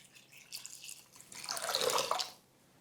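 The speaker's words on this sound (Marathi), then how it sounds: "भरपूर पाणी घाला" Water poured from a height onto semolina in a bowl, a close splashing, gurgling rush that swells and then stops abruptly, following a few faint drips.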